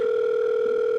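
A phone call ringing in the video game The Letter: a steady, continuous electronic telephone tone, clear and unbroken throughout.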